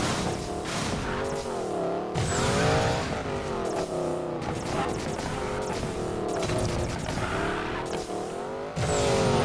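Koenigsegg hypercar drifting in the Need for Speed Payback racing game, a loud continuous engine roar with wavering revs and tire squeal, close and steady throughout.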